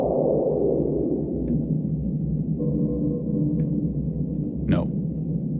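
A synthesized whooshing noise from a Roland JD-800 metal wind patch with resonance, with a metallic, resonant tone, steady and droning, with a brief pitched sweep near the end.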